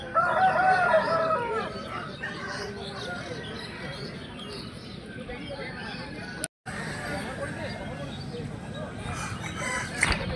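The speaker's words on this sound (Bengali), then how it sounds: "দেখুন মুরগিটা একবার, এটাও অনেক বড় সাইজের মুরগি ছিল, এবং এই মুরগিটাও বেশ ভালো লড়াই করছিল।" Chickens cluck and a rooster crows at a busy poultry market, the birds fairly close amid people talking in the background throughout.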